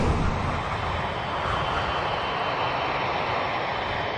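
A damaged, overweight Boeing 747 running on only two engines, flying as Flight 811 on its landing approach, fills the air with a loud, steady jet engine roar and broad rushing noise without pause.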